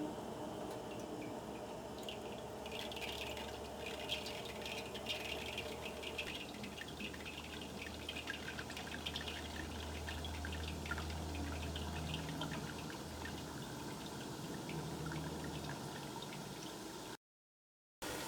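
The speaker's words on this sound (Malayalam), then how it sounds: "ഈ ഓട്ടയുള്ള പാത്രത്തിൻ്റെ മുകളിലേക്ക് മാവ് ഒഴിക്കാം" Boondi batter poured through a perforated ladle set over a pan of hot oil for laddu, heard as a quiet continuous liquid patter and sizzle with scattered crackles, fairly close, with no talking until a brief silent cut near the end.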